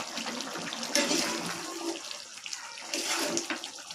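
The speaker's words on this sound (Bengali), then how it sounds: "বন্ধুরা সেদ্ধ হওয়ার জন্য ঝোলের পানিটা দিয়ে দিলাম।" Water is poured into a cooking curry, giving a close splashing, gushing rush in two bursts with quieter liquid sounds between them.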